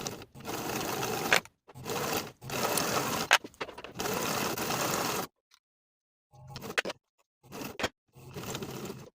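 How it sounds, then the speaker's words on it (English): A sewing machine stitches bias tape around the crease on a pair of pants, running in steady close-up bursts broken by short pauses, then a few briefer runs near the end. "Now we're going to sew all the way around in the crease of the bias tape"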